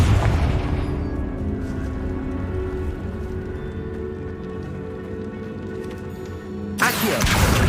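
A booming blast from the Confringo spell in a Harry Potter video game on PS5, a loud rumbling explosion that decays over several seconds before a second sharp burst hits near the end.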